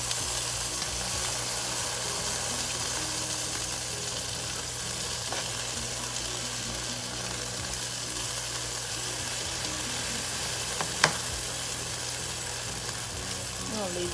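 Pork chops frying in a pan give a steady, broad sizzle through the whole stretch, with a low constant hum underneath and one brief sharp click near the end.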